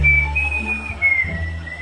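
A person whistles a short, clear high tune close by, one sustained wavering note sliding gently in pitch, alone with no talk.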